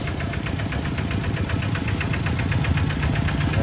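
A farm tractor engine runs steadily up close, its loud, even knocking putter continuing throughout with no talk over it.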